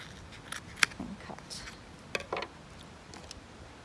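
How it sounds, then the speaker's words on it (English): Sharp scissors snip through a few layers of T-shirt fabric at a time, several quick close crisp cuts spaced irregularly over a quiet room. "Make sure you have sharp scissors"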